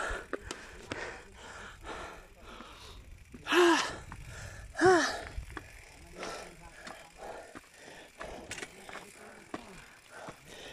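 Heavy, rapid panting breaths come close up with a couple of loud gasping exhales, mixed with scuffing movement and bits of voice, on a hike to Al Hada waterfall.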